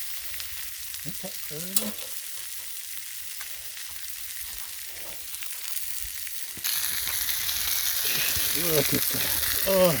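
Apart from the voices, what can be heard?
tri tip steak searing on a Blackstone griddle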